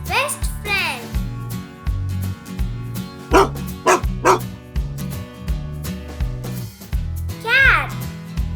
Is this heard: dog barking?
yes